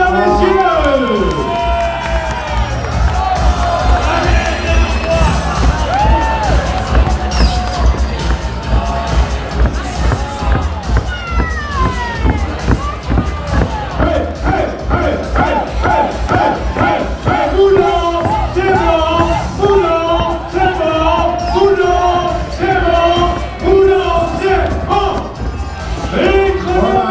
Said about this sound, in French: Vous applaudissez, mesdames et messieurs.